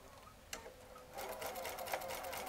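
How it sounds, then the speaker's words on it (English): Domestic sewing machine stitching a quilt seam for a Lemoyne Star block, starting after a brief click and then running as a steady rapid whir of needle strokes, close and clear. "then I can sew right off"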